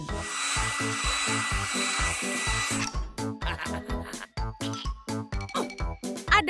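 A hair dryer switches on with a loud, steady blowing whir for about three seconds, then cuts out into rapid rhythmic clattering bursts like a power tool.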